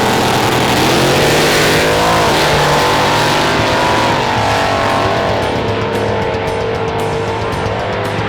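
A hot rod drag car launches down the strip at a drag racing event, its engine roaring loud and close, rising in pitch as it accelerates, with tire squeal mixed in, then fading slightly as it pulls away.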